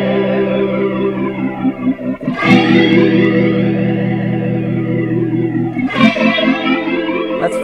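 Spectre synthesizer patch run through sample and hold modulation, a dense sustained tone with stepped shifting harmonics and two sharp bright swells around the midpoint and near the end, loud and steady with no talking.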